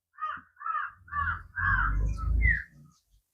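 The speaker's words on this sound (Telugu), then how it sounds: "పక్షులు అవన్నీ కూడా తింటున్నాయి" Crows feeding on ripe bananas still hanging on the tree caw about five times in quick succession, fairly close and clear against a quiet background.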